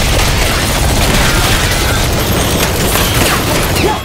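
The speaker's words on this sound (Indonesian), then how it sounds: "Mereka pun segera melepaskan tembakan ke arah para alien." Dense, continuous gunfire and booming blasts fill the whole stretch, loud and chaotic like a battle scene against aliens, with no pauses.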